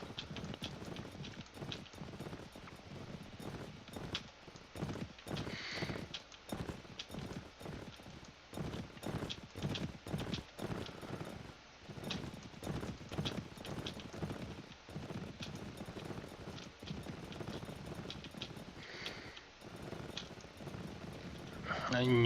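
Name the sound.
horses riding, from the video game Mount & Blade Warband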